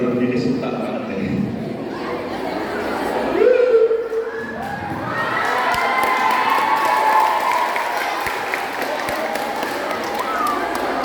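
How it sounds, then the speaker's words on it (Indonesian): An audience at a youth church session breaks into scattered clapping and cheering, with crowd murmur, a few children's shouts and voices talking over the steady patter. "Tepuk tangan dulu."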